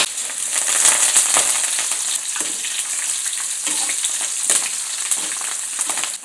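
Ginger, garlic, curry leaves and small kanthari chilies fry in sesame oil, giving a steady, close crackling sizzle with occasional sharper pops that holds throughout without talk.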